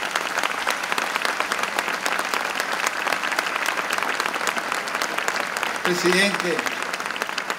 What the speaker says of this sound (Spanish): permítame darle un gran aplauso a mi presidente,